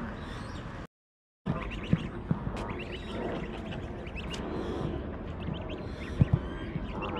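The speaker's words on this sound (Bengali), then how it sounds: "বিভিন্ন প্রজাতির হাঁস," Ducks along the bank of the River Thames at Windsor call in scattered quacks and honks over a steady outdoor background, with no talking and a brief dropout near the start.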